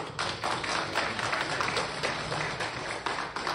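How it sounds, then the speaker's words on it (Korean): A church congregation breaks into warm welcoming applause for a visiting elder, a dense, steady patter of many hands clapping at moderate distance for several seconds. "우리 환영의 박수를"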